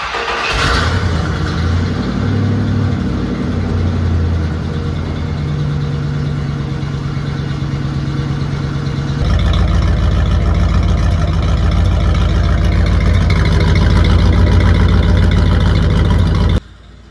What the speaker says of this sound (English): You already know we gotta do a cold start with this new 3-inch exhaust I built last year